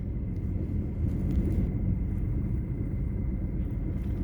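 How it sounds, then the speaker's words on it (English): Strong winter blizzard wind buffets a truck in Mansfield, Ohio, producing a steady, loud low rumble with gusty swells throughout and no speech. "It's like violently windy out."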